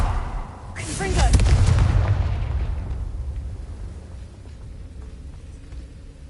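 A Confringo fire-blast spell cast in Hogwarts Legacy erupts as one loud, booming explosion that swells quickly and then rumbles away over several seconds, with a faint trailing tail and no talk during the blast.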